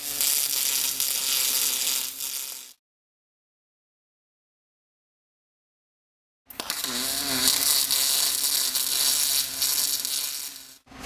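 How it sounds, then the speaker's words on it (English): Tack welding of 3/16 inch flat bar onto a 1-inch tube gives a harsh, crackling hiss in two sustained bursts, a few seconds each, split by several seconds of silence and heard close up. "we'll tack weld it on either side."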